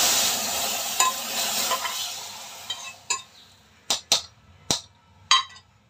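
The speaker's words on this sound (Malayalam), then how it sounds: "പിന്നെ അതിന് കടുകൂടെ വറുത്ത് ചേർത്ത്." Mustard seeds tempering in hot oil for sambar, a steady frying sizzle at first, then a series of sharp pops and crackles spaced out over the final seconds.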